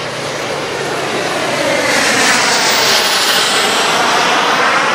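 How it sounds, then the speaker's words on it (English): An A-10 jet aircraft comes in to land at an airshow, a loud, steady roaring engine wash that swells slightly through the middle and stays strong, close by and alone without talk. "A-10 number 1 will be landing. Second A-10 will be banking out on the turn for landing."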